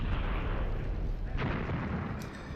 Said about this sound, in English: So this is also very heavy artillery, maybe 155s.